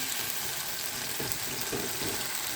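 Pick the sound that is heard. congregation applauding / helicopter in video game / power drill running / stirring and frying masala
stirring and frying masala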